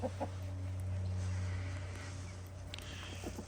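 Chickens clucking softly as they hunt for grapes scattered in a yard, with a few faint, brief clucks over a low steady hum.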